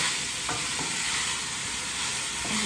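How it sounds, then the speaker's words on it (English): Onions and peppers stirred in hot oil in a pan for homemade three-bean chili, a steady broad sizzle running throughout with a few soft utensil scrapes near the start and end. "Stirring them in the oil a little bit."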